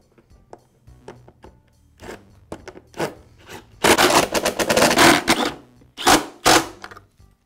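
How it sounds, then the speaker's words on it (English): Screws are driven into the housing of a Porter Cable air compressor during repair, with faint taps at first, then bursts of grinding, rasping turns, close and fairly loud, in short pauses between runs. "And I'll secure it with the screws."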